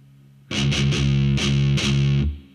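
Distorted heavy-metal electric guitar chugging a palm-muted down-up-down-down-down picking pattern on the low string, five loud close bursts in quick rhythm, played alone.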